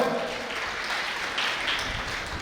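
An audience clapping at a former students' reunion gathering: a sustained wash of applause from many hands, fairly even in loudness throughout.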